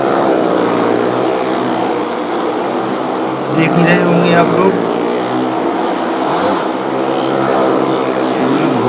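Motorcycle and car engines roar continuously as they circle the wall of a well of death stunt show at a fair in Chhatarpur, loud and steady with rising revs, while someone talks over the din.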